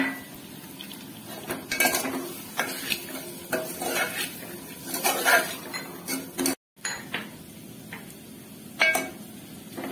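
Red chili powder and a homemade spice masala fry in a pan for a drumstick amti, with soft sizzling under frequent stirring scrapes and metallic clinks of a utensil against the pan.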